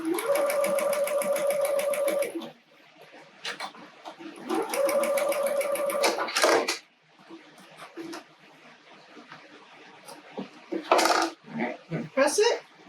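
A sewing machine stitches quilt block pieces for a snowman quilt in two long, steady runs, with quieter handling noise and brief talk in between.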